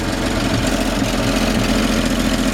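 The engine of a 1952 Chevrolet 3100 truck idles steadily with a low, rough rumble and a faint knocking texture, continuous and close throughout.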